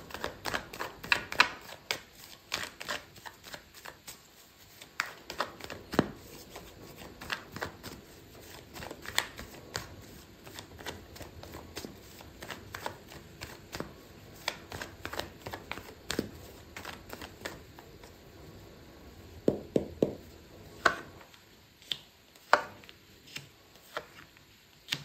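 Tarot cards being shuffled by hand, a continuous run of crisp riffling and slapping card sounds with irregular sharper snaps, close and moderately loud, no talking.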